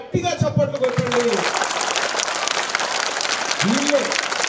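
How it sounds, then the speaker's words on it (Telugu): Students at a government school event in Yadagiripally clap for their teachers, a dense burst of applause rising after a voice and lasting the full few seconds, with his speech resuming near the end. "ఒక్కసారి మీ టీచర్లందరికీ గట్టిగా చప్పట్లు కొట్టండి"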